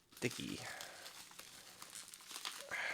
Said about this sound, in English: Who would have guessed tape would be so sticky?